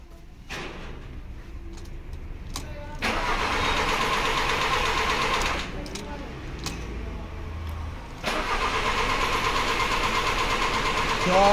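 A car engine cranks repeatedly without catching while a sensor reference wire is shorted to ground for diagnostics, with several bursts of starter whirring separated by short pauses, close and fairly loud.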